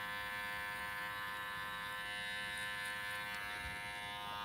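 Electric hair clipper steadily buzzing close by during a boy's haircut, a continuous even hum with no talk.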